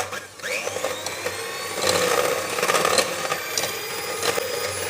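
An electric hand mixer whirs continuously while beating room-temperature butter until light and creamy, its motor pitch rising and dipping slightly as it works through the bowl, with a voice talking over it.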